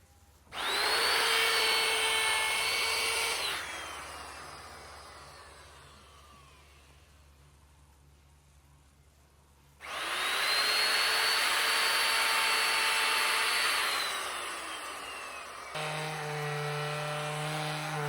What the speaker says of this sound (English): This router bit looks a bit blunt because it's burning when I go slow.